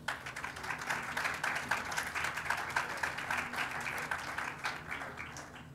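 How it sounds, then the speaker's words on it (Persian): Audience applause at a university film-editing exhibition event in Iran fills the whole span, a dense, steady clapping from a sizable crowd that tapers slightly at the end. "خواهش میکنم خودتون رو تشویق کنید."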